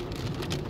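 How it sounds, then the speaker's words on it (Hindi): Heavy rain pours down in a steady, dense broadband hiss, close and continuous, during flooding from the Sutlej river. "तो इतनी बारिश है"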